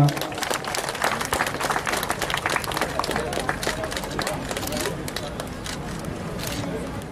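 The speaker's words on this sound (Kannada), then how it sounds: "ಇವರಿಗೋಸ್ಕರ ಒಂದು ಜೋರಾದ ಚಪ್ಪಾಳೆ ಬರಲಿ" Steady, dense applause from a large crowd at a KSRP police passing-out parade in 2018, with a voice faintly under the clapping throughout.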